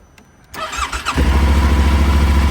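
A Yamaha Tenere 700 motorcycle cranks with a short starter whir, catches and settles into a loud, steady, throbbing idle close by.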